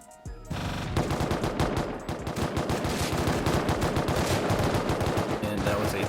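Sustained automatic gunfire in the console survival game Rust rattles in rapid dense bursts during a base raid, loud and continuous after a short quiet opening, with no speech.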